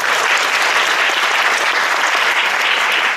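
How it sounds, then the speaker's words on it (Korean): Loud, sustained audience applause in a lecture hall welcoming a classical guitar student onto the stage, thick and even from start to finish with no speech on top. "박수 좀 부탁드립니다"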